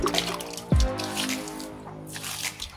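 Water poured from a container to wash the floor in front of a house, a short splash and gurgling trickle with scattered drips, fairly close and fading into soft background noise.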